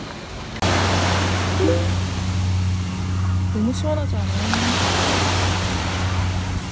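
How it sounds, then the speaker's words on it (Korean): Ocean waves at Gangmun beach in Gangneung wash in a continuous broad roar under a low steady hum, while someone speaks briefly over it. "여기는 강문 해변입니다."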